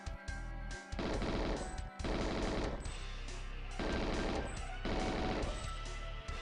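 Rapid bursts of gunfire from the GoldenEye 007 shooter on the N64, emulated on a Raspberry Pi 4, ring out loud and close in dense volleys, with brief pauses between strings of shots.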